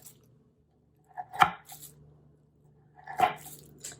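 A regular knife cuts slices from a lolly cake with two separate firm chops on a board, each a short thud with a crunch and a brief scrape after it, quiet pauses in between.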